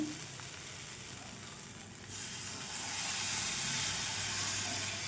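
Rice flour batter is ladled into hot oil in a pan, and the steady sizzle swells into a louder, fuller hiss as the batter hits the oil.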